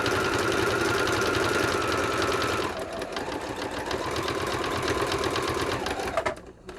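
A sewing machine stitching fabric for a bowl cozy splatter guard: a steady, rapid mechanical whir and needle chatter running continuously at close range, slowing briefly before stopping at the end.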